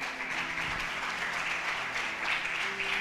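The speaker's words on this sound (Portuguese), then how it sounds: "dê um forte aplauso para o Senhor." A church congregation claps steadily for the Lord after a prayer, a dense, even wash of applause from many hands that holds throughout.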